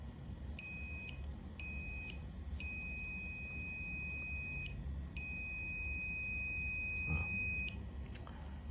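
A buzzer on an ultrasonic distance sensor circuit gives several steady high electronic beeps of varying length, some short and some held for seconds, over a low room hum.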